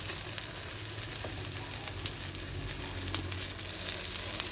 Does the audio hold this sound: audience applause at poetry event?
no